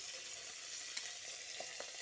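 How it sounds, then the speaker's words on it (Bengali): Potato and cauliflower fry with a soft, steady sizzle in a pan as they are stirred, with a few faint scrapes of the spoon, quiet and close with no voices. "আলু ও ফুলকপিটা ভেজে নেওয়ার পর ঢাকাটা খুলে আরও একবার নাড়াচাড়া করে নিচ্ছি"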